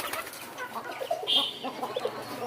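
Quail give soft clucks and chirps, with a brief higher call in the middle, close by and fairly quiet.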